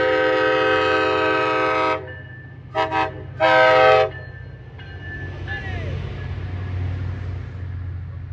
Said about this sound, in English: Here comes the next MBTA commuter rail train that's going to be going towards Fall River